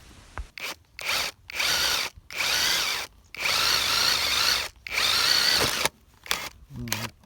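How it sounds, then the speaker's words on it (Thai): A power drill bores holes in a water pipe laid out for drip irrigation on a farm, running in about six loud bursts of a second or so each, separated by brief silences. "เมื่อวางเสร็จแล้วก็มาไล่เจาะกันเลยครับ"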